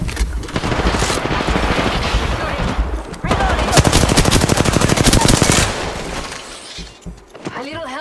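Rapid automatic gunfire rattles in Apex Legends, loud and close in long sustained bursts with a brief pause between them, while game voices speak beneath the shooting before it tapers off at the end.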